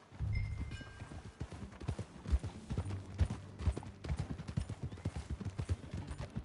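Horse hooves clip-clopping at a riding pace in Red Dead Redemption 2, a steady, close rhythmic series of thuds running throughout, with a brief whinny-like tone early on.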